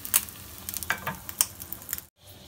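Eggs frying in a pan, a close crackling sizzle with sharp spitting pops and scraping stirs, briefly cutting to silence near the end.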